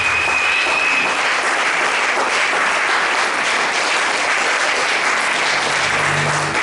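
Sustained applause from a church congregation acclaiming God during a French-language prayer service, steady and dense clapping filling the whole stretch without pause.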